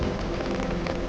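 Rain falling in Chaoyang Park in Beijing, a dense, even patter of drops on surfaces, close and steady through the short stretch.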